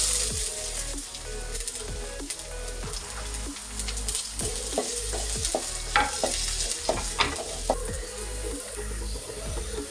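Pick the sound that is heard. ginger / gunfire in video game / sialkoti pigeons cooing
ginger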